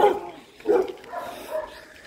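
A stray puppy following along a street barks in a few short, close yips, three bursts spaced across a couple of seconds, with no talking over them.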